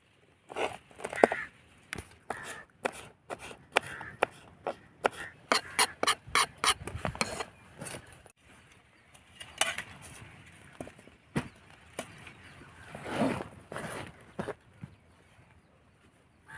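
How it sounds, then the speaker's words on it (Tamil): A kitchen knife slices green chillies on a cutting board, a run of quick, sharp, fairly close chops with short irregular pauses, then a few scattered strokes and soft handling noises. "வாங்க பச்சை மிளகாவை கட் பண்ணி எடுத்துக்கலாம்."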